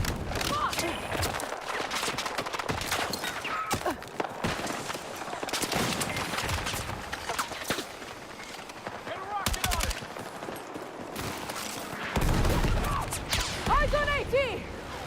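Dense, sustained gunfire from a video game battle, with rapid bursts and machine-gun volleys overlapping continuously at close range while voices talk over the shooting.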